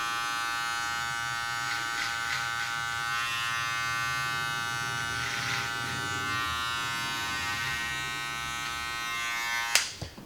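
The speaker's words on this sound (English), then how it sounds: "I'll just do a clipper over comb technique" Electric hair clippers trimming a mustache using a clipper-over-comb technique during a beard trim, a steady close buzz running throughout, ending with a brief clatter.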